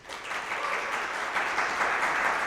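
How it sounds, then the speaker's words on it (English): A live podcast audience in Atlanta applauds, a steady wash of clapping that stays loud and even throughout, with no voices over it. "Applaud."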